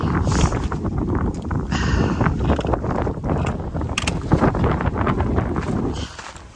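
Blustery wind buffets the microphone on an exposed Appalachian Trail ridge edge, a loud continuous rush with gusty surges throughout, easing slightly at the very end.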